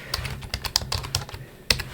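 Quick, irregular clicks of fingers typing on a computer keyboard, close and crisp, with a few short pauses between bursts of keystrokes and no talking.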